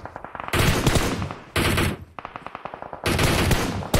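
Loud bursts of automatic gunfire in PUBG Mobile during a professional league match, three long rapid-fire volleys separated by short pauses, with single shots in between and no talking.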